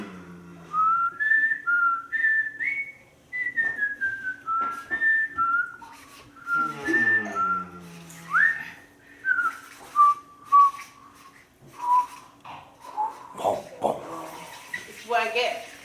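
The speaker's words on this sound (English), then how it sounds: "taught me how to whistle" A person whistles a wandering melody in short phrases at a bridal shower gathering, the tune loud and close with brief pauses between bursts.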